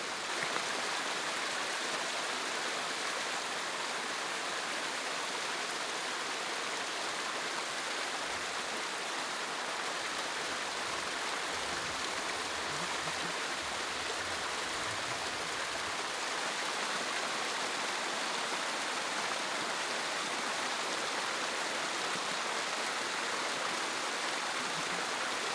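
A small stream spills down like a shower outdoors, a steady close rush of water that holds even and unbroken from start to end with no voices.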